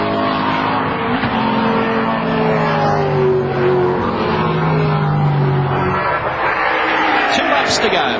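A Peter Jackson Ford Falcon touring car races at Phillip Island in the 1994 touring car championship, its loud engine note holding steady and then dropping as it passes, with a commentator talking over it throughout.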